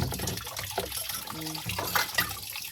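Water runs and splashes during cleaning in a rural yard, a steady close wash of flowing sound with a few clunks and faint talk underneath.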